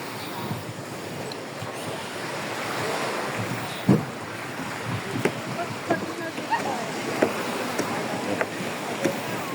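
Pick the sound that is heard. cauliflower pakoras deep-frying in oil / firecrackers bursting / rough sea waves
rough sea waves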